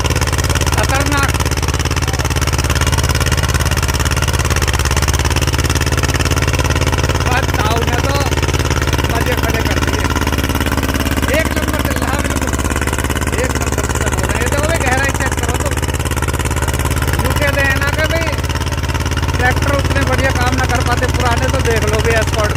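An Escort tractor engine runs steadily and loudly close by, a continuous low rumble with no pause throughout.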